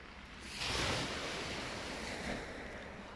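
Sea waves wash steadily onto the shore in a continuous broadband rush, swelling slightly near the start, with wind buffeting the microphone throughout and no voices.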